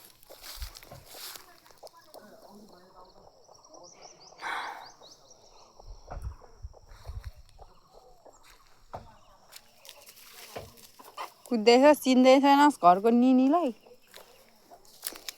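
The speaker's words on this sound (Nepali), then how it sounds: "चिन्दै छैन हौ यो कुखुराले" A chicken on a rural farm gives a loud, wavering burst of clucks near the end. Before that, quiet stretches carry someone talking softly.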